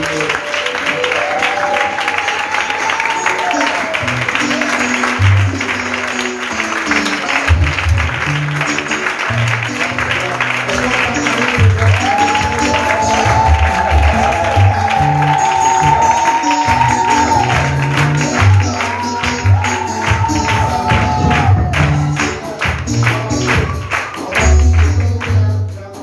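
Church congregation clapping steadily through a worship service, sustained applause mixed with voices and music.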